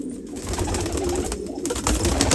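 Pet pigeons coo close by in soft, throaty, rolling calls over a busy, loud background, lasting the whole brief moment.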